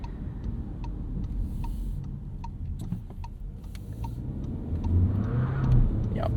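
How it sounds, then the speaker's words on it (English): A 2024 VW Tiguan S on a wet, rainy road spins its wheels under normal throttle, giving a low engine rumble with road and rain noise, rising near the end, while the indicator ticks steadily. "I'm just giving a normal amount of throttle and it's spinning its wheels"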